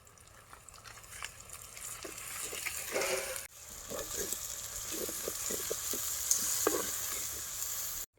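Onion and tomato pieces frying in a pan in a village kitchen, a soft steady sizzle with occasional stirring scrapes, fairly faint and close, growing a little louder midway as the tomato goes in.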